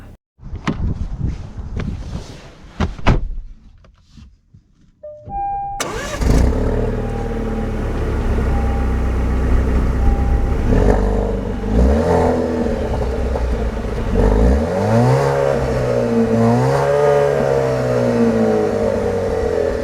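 A 2024 Alfa Romeo Stelvio Competizione starts up after a few clicks and clunks, its engine catching with a quick flare, then settles into a steady run and rises and falls through revs as the SUV pulls away.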